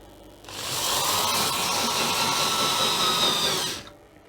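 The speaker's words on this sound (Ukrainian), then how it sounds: "Давайте загонимо якийсь саморізів, щоб було чесно." A 400 W electric screwdriver, run from a car battery through a 2000 W inverter, drives self-tapping screws with a steady high whirring motor whine lasting about three seconds, close and loud with no talking.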